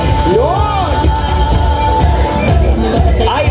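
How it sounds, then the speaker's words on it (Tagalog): Loud crowd cheering and shouting at a Pasig Day parade with government employees and various groups, a dense roar of whoops and voices, with a whistle-like tone sweeping through and speech mixed in. "Tingnan nga natin sa malakas na palakpakan at hiyawan"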